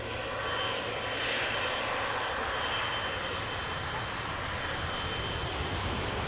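Emirates airliner jet engine rumbling steadily at Manchester Airport before departing for Dubai, a broad, constant roar that stays loud and unbroken throughout with no one speaking.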